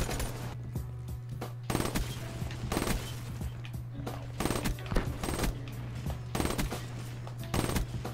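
Rapid bursts of M8 automatic gunfire in a video game come close and loud in repeated volleys over a steady low in-game hum.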